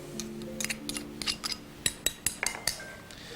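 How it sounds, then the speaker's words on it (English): Ginger, shallot and garlic pounded with a pestle in a mortar: a close series of sharp knocks and clinks, irregular at first and then quicker and more even, with no talking. "and we'll continue to pound."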